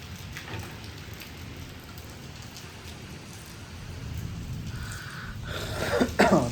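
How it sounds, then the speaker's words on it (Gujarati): Steady rain falls as a continuous soft hiss during a rainy, windy day in Dwarka, and a few louder close bursts, like coughs or knocks, come near the end. "બધું વરસાદી માહોલ છે."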